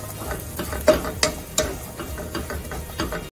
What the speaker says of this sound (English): add oil to the pan and our diced onions, and saute for a few minutes.